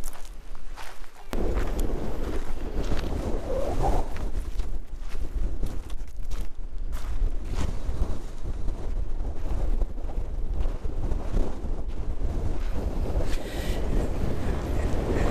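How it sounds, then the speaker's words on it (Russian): Strong gusting wind on the Santorini volcano island batters the microphone in a constant roar, with faint footsteps beneath it. "Ветер просто сдувает, сумасшедший."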